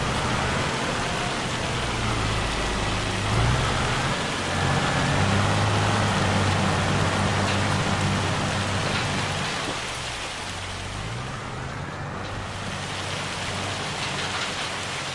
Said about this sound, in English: Oh, it's downpouring.